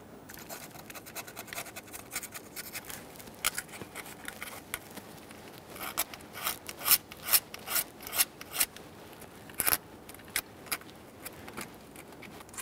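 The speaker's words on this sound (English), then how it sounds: "We just want to make sure we scrape it nice and clean" A scraper rasps and scratches old gasket material off the intake surface of a 2011-2020 Toyota Sienna 3.5L V6 engine, with irregular close strokes that grow busier and louder midway, then taper off, no talking.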